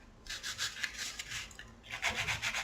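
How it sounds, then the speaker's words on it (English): Sanding and filing of wire earrings, with rapid back-and-forth rasping strokes in steady bursts and a short pause partway through, close and fairly loud, with no talking. "Take the time to sand and file everything if you need to"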